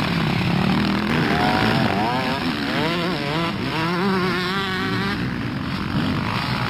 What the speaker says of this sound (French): la même moto pour deux pilotes, Samuel Rivière et Stéphane Lorette s'impose